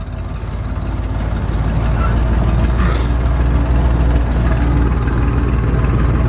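A 1975 Jeep with an EFI Dauntless V6, 35-inch tires and Dana 44 axles creeping along in first gear, high range, without throttle: a steady low engine rumble that holds loud and constant throughout.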